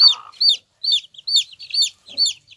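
Chickens at a farm cluck in a quick series of about six short, sharp calls, close and fairly loud, with brief silences between them and no talking.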